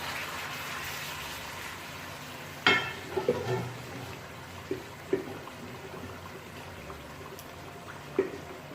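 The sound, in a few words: pressure-cooked meat being cooked in a pan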